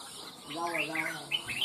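A red-whiskered bulbul sings from a cage, giving a short run of bright, warbling chirps. The song is moderately faint and sits over a steady background hum.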